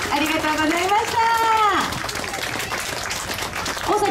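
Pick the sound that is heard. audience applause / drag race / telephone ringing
audience applause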